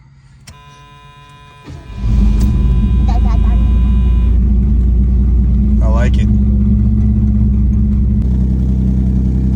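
A Chevrolet Monte Carlo V6 with dual exhaust cranks and catches about two seconds in, then settles into a deep, steady exhaust rumble; a brief electronic chirp and a person speaking briefly are heard over it.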